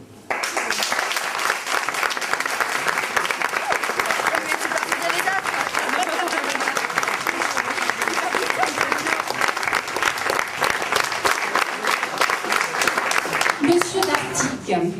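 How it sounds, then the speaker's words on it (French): An audience at La Ronde de l'Espoir 2012, a school event at Lycée La Merci Littoral in La Grande Motte, applauds at length: sustained, crowded clapping that goes on for about fifteen seconds, with voices mixed in and a tapering at the close. "je voudrais que ce soit vous qui les applaudissiez"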